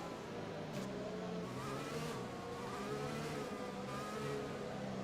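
Formula 1 car in the F1 2020 racing game, engine droning and revving in rising and falling sweeps with brief shift breaks, moderately quiet and steady.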